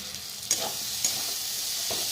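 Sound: cabbage and spices being stir-fried

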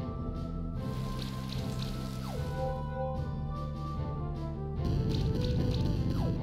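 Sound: rain attack sound effect from the video game Monster Sanctuary

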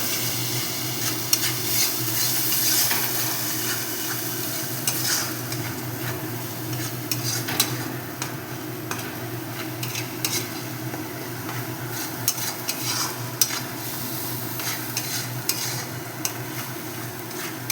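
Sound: frying thankuni leaf paste with turmeric and salt

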